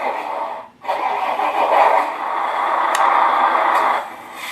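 Simulated truck engine from a Beier SFR-1 sound unit fitted in a Tamiya 1/14 truck, a steady mid-pitched electronic drone that starts after a brief dropout, holds loud and even, then falls away near the end.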